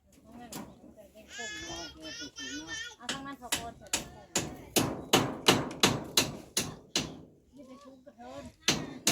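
Nails are hammered in a run of about a dozen sharp, evenly spaced strikes that grow louder, with voices and a child's cry heard earlier.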